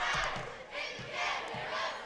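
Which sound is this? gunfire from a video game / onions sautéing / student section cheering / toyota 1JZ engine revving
student section cheering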